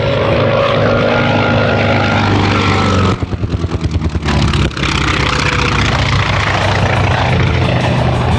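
A World War II propeller warbird roars overhead on a low strafing pass at an airshow, loud and sustained, with a pulsing stretch of rapid crackling in the middle as it sweeps past.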